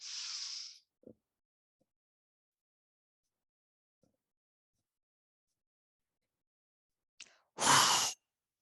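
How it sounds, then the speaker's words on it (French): Deep breaths during a sophrology relaxation exercise with fists clenched: a soft airy inhale at the start, long quiet stillness, then a louder, close breath near the end. "On inspire, les poings sont fermés, on inspire."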